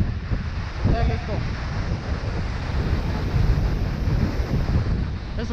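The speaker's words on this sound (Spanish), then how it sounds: "Esta es la cascada del cóndor Machay." Heavy, continuous roar of the Cóndor Machay waterfall, loud and close with blowing wind and spray buffeting the microphone, a voice briefly heard near the start.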